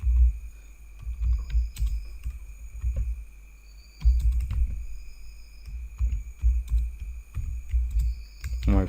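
Keys on a computer keyboard are typed in irregular bursts of soft, low thuds and clicks, close and intermittent with short pauses, over faint background hum.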